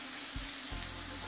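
Pork belly sizzles and spits on a hot Korean barbecue grill, a steady close crackle of frying fat with a couple of brief louder pops.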